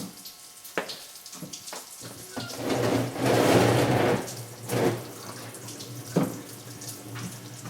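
Coolant from a 2002 Duramax LB7 diesel water pump pours and splashes onto a shop floor, a continuous watery gush that swells in the middle and then trails off into drips.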